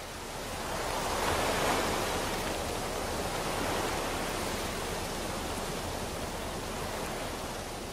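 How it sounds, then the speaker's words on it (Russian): Wind and waves at a quiet lakeshore near the Estonian border in the Pskov region of Russia, a steady broadband rush of surf and air that swells slightly early on and stays even and continuous, with no voices. "Никаких тебе лишних звуков, только ветер и волны."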